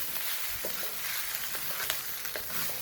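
Garlic fried rice sizzles and fries steadily in a well-seasoned wok, a continuous close hiss with faint scraping stir strokes scattered through it and no talking.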